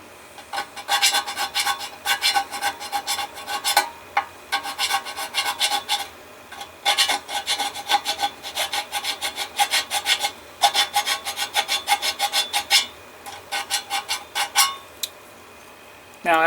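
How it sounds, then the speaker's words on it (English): A small Tamiya file rasps against model car chassis parts in short repeated strokes, close and crisp, with brief pauses between bursts and no voices. "so I'm having to file away some of the parts on the very back side."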